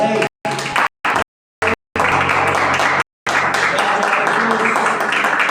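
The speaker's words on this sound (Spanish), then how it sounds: "Un aplauso" Applause from a church congregation, bursts of clapping broken by brief silences and then a steady, loud stretch of clapping with some voices mixed in.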